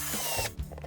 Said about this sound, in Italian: con un trapano ed una punta a tazza, diametro 32, fate un buco al centro del tappo della scatola